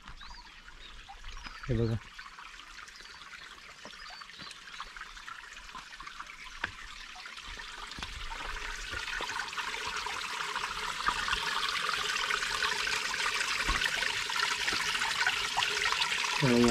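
Spring water trickles and pours on a sunny Konkan plateau hillside, a steady splashing flow that grows louder and brighter, with a brief voice near the start.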